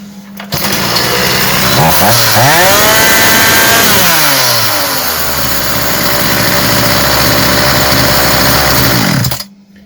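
A Homelite HCS3840B chainsaw runs close and loud, revving up and down in sweeping pitch, then settling into a steady high idle before cutting off at the end.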